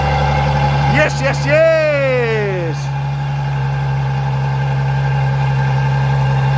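A Ferrari V12 engine idles steadily in a garage, a low constant hum throughout, with a brief excited shout and rising voice sounds near the start over the running engine.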